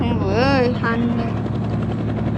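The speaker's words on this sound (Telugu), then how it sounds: "వాము, హెలికాప్టర్ తీసుకొని వెళ్దామే ఊరికి మంచిది." A helicopter in the Indian Bike Driving 3D video game gives a steady loud rotor drone throughout, while a voice speaks briefly over it at the start.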